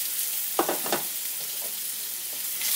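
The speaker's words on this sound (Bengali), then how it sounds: "এখন আমি এর মধ্যে ওলকপিটা দিয়ে দিচ্ছি, এটাকেও একটু ভেজে নিচ্ছি।" Boiled kohlrabi added to partly fried potatoes in hot oil, giving a steady bright sizzle with a few short stirring scrapes near the start, close and continuous.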